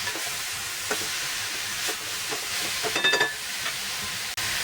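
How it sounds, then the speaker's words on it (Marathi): A spoon stirs a filling of fresh coconut and jaggery in a pan, giving a soft steady sizzle with a few scraping strokes and light taps up close, no voices. "आणि छान असं हलवून घ्यायचं."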